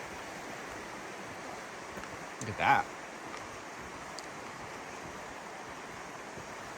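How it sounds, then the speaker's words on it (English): Silver Creek in Silver Falls State Park, Oregon, flows in a steady, even wash of rushing water that runs the whole time, with a brief voice speaking partway through. "Our trusty friend, Silver Creek."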